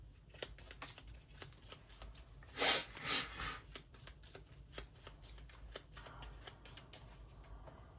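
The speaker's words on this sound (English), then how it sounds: "so now I do have to shuffle" A deck of Goblins and Glory board-game cards being shuffled close up, a string of quick crisp riffles and flicks with one louder ruffling burst midway, alone with no talk.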